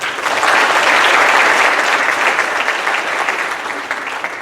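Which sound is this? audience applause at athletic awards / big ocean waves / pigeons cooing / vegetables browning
audience applause at athletic awards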